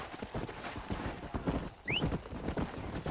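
Horse hooves clip-clop steadily in Red Dead Redemption while riders herd cattle, close and fairly loud, with a brief horse whinny partway through and no speech.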